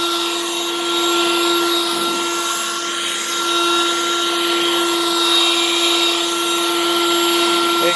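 A Harbor Freight Lynxx 40-volt cordless leaf blower runs as a steady, loud, high-pitched whine with a constant airy rush while pushing rocks back into a rock field, with no break in the tone.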